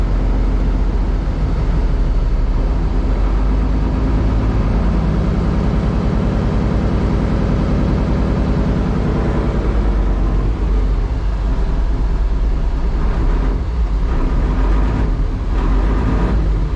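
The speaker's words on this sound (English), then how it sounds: "Engine sounds fine" A cold engine idles and runs continuously at an off-grid ranch, a steady low rumble that stays loud throughout with a slight shift partway through, with no talking.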